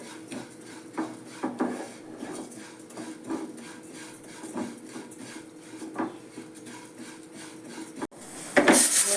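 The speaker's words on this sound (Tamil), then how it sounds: "இந்த கோதுமை ரவையை நீங்கள் 7 நிமிஷம் வறுக்கணும்." Steady scraping and stirring of wheat semolina roasting in a pan, with repeated rasping strokes at an even pace and a louder clatter near the end.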